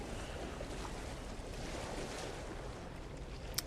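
Ocean waves from the game No Man's Sky wash steadily as an even, broad surf hiss with a windy edge, unbroken throughout, and a faint click right at the end.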